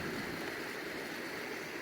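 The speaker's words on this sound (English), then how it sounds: "21st century wooden bridge with an amazing waterfall." Water rushes steadily from a waterfall beside a wooden bridge at an abbey, a broad, even roar of falling water heard up close with no break for the whole moment.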